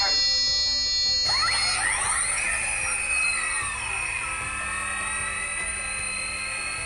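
AD2-X8 industrial drone with detachable arms spinning up its rotors, a loud high whine that starts suddenly, swoops upward in pitch, then settles into a steady buzzing hum, close and alone.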